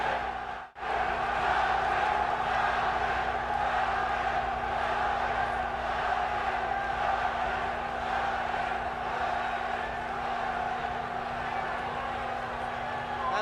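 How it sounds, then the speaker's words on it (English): A Swiss crowd at the Muhammad Ali vs Jurgen Blin boxing match roars and chants in a steady, distant wash of voices, with a constant hum over it and a brief dropout near the start. "this Swiss crowd really chanting and going crazy"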